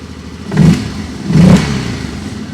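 A 2024 Loncin X Wolf 700 4x4 ATV engine revs twice in quick succession, each a rising and falling rev swelling over a steady close idle.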